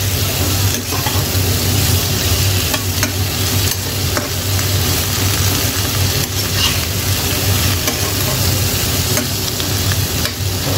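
Shrimp with kangkong being stirred in a pan as it cooks toward golden brown before coconut milk goes in: loud, continuous frying sizzle with regular scraping stirs of a utensil close by, no talking.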